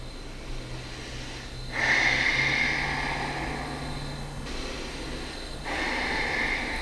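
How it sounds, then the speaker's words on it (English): Slow, deep yoga breaths through the nose, with a long airy inhale and exhale heard close and soft against a quiet room hum and no talking. "just take a couple of deep inhales and exhales here."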